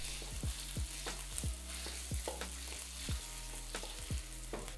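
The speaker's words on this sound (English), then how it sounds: "Drop in minced ginger and half of the minced garlic. Fry until fragrant." Minced ginger and garlic fry in hot oil in a wok, giving a steady close sizzle broken by repeated scraping strokes of a spatula, with no talk.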